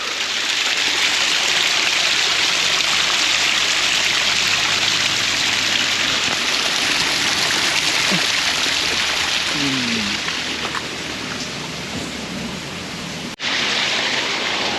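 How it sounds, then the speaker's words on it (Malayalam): A small mountain stream rushes over rocks in a steady, broad wash of flowing water that stays fairly loud and constant, with faint voices and brief knocks partly buried in it. "ഇവിടെ ചെറിയൊരു അരുവി മാതിരി ഒരു സാധനമുണ്ട്"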